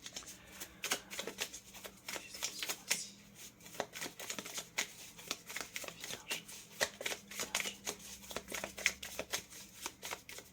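Soft papery rustling and quick flicks of tarot cards being handled and shuffled close by, a quiet continuous patter of card against card.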